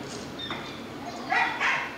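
Dogs bark in a couple of short, sharp bursts near the end, close and fairly loud, over low background voices in a French film scene.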